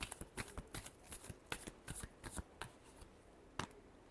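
Tarot cards being shuffled close by in a series of crisp riffling bursts and flicks, irregular and fairly quiet, with no talking.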